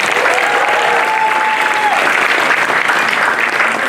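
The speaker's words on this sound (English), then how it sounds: "A round of applause," Loud, dense crowd applause for the newly crowned Miss 2025 at a live pageant and talent-show event, a continuous roar of many hands clapping, with a faint tonal whistle or cheer briefly above it.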